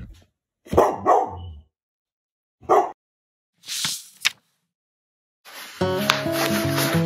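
A dog barks in short bursts, a few separate woofs with pauses between, followed by a brief musical sting at the end.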